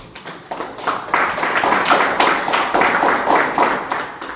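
An audience at a religious gathering claps in a brisk, fairly steady rhythm, the clapping swelling from a few hands into a fuller, close round that continues throughout.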